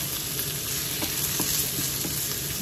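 Sliced onion and pork frying for chopsuey, a dense continuous sizzle with occasional clicks of stirring, close and alone.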